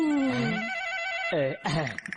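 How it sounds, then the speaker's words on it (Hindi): A telephone rings in a South Indian action movie scene, a sustained electronic ringing tone that runs for over a second before a voice briefly cuts in. "आपका फोन बज रहा है"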